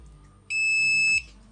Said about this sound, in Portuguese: O bip dele é bem alto.